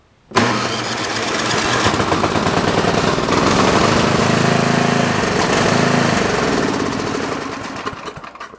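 A snowblower engine catches after a spark plug swap and keeps running, loud and steady, close by for several seconds before it sputters and fades near the end.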